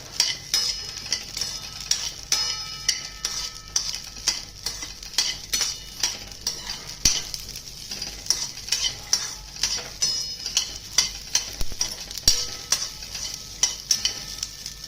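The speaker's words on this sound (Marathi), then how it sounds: "तेल तापलं की हे जे हरभरे आहेत ना आपल्याला हे भाजून घ्यायचे याच्यामध्ये डाग पडेपर्यंत" Green chickpeas roast in hot oil in a pan, giving a steady sizzle and crackle with frequent clinks and scrapes from stirring, close and fairly loud, with no voices.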